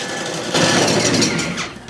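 An electric mixer on medium speed whips homemade brown sugar, a steady mechanical whir that grows louder and denser after a brief start, running alone with no talk.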